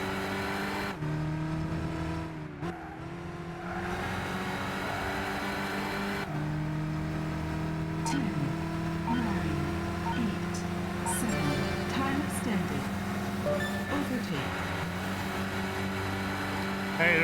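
A Mazda Demio Sport engine in the Gran Turismo 6 racing game drones steadily, a continuous layered hum that holds level for the whole stretch with small pitch shifts as the car accelerates, with a voice talking over it.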